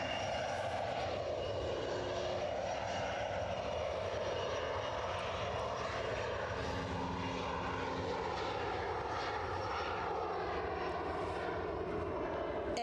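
An AgustaWestland helicopter engine drones steadily overhead near Edinburgh Airport, its whirring rising and shifting in pitch as it passes at a distance.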